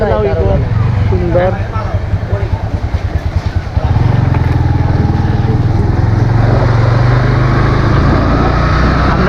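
A motorcycle rides along Khadim Nagar road in Sylhet, its engine a steady close drone that grows fuller and louder after a few seconds, with voices talking over it.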